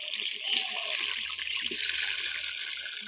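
Running water washing cooking ingredients at a home kitchen sink, a steady broad hiss of tap flow with light splashing that continues evenly throughout, fairly close.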